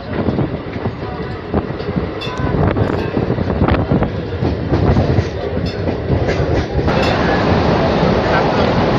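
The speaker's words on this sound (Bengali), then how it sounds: "লোকাল ট্রেন যে এত স্পিডে চলে কিন্তু আমার ভাবার বাইরে ছিল" An ICF EMU local electric train runs fast on the Sealdah–Barddhaman line, a steady loud roar with rattling wheel clicks and wind buffeting the microphone throughout.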